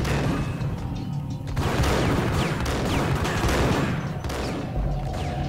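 Gunfire in the Max Payne video game, a dense, sustained volley of shots and crashing impacts filling the scene at close range, loud and continuous with no voices.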